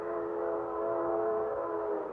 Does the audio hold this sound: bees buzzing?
no